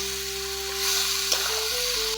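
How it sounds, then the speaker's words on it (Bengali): Boiled green jackfruit goes into spices frying in a pan and gets stirred, a steady close sizzle with a soft scrape of the spoon partway through. "এখন সেদ্ধ ইঁচড়টা দিয়ে দেব মশলায়। একটু নাড়াচাড়া করে নেব।"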